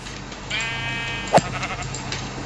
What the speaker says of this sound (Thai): แกะนะคือแกะเยอะมาก